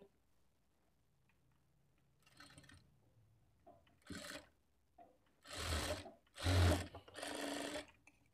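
A sewing machine stitches fabric onto a blouse shape belt in a few short runs after quiet handling, the whirring bursts growing louder toward the end, close by.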